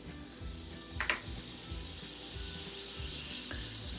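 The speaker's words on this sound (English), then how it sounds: "we're just going to put about 1 tablespoon of butter" Butter melting and sizzling in a hot frying pan for a breakfast fried egg sandwich, a soft steady crackle close by with a brief scraping clatter near the start and no voices.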